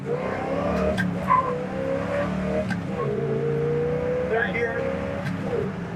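A 1962 Chevrolet Impala's engine revving hard with a short tire chirp as it shifts into third gear, heard up close from inside over people talking.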